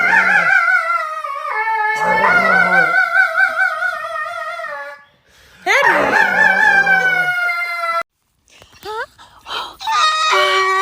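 A dog howls dramatically in long, wavering, high-pitched wails, several drawn-out cries broken by short pauses, loud and close with no talking over it.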